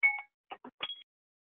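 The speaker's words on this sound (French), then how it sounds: "c'était mon minuteur" An electronic timer goes off with a quick series of three or four short, clear beeps, close and moderately loud, then silence.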